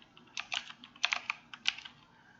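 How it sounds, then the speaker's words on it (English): A computer keyboard is shifted on a desk, giving a loose cluster of light plastic clacks and taps in quick irregular bursts, close and fairly quiet, with no voices. "I need to move the keyboard a little bit."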